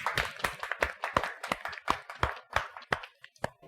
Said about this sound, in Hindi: इसके लिए तालियां जरूर बजाओ